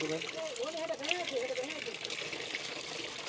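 Water gushes steadily from a tap or pour while a man is bathed, a continuous splashing stream running under people's voices talking nearby.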